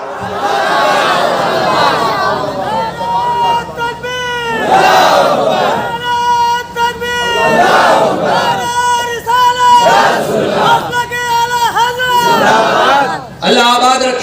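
At a religious gathering on Imam Husain's martyrdom, a large crowd shouts slogans in loud rhythmic bursts that rise and fall again and again, with voices overlapping throughout.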